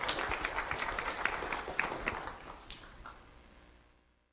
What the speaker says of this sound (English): Let's have a round of applause for London Rotundo.